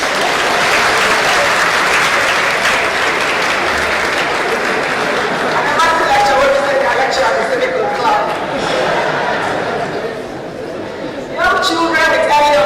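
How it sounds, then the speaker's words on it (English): Dense audience applause at a talk on eye health and blindness fills the room throughout, with voices faintly emerging over the clapping in the later seconds. "You're gonna clap now."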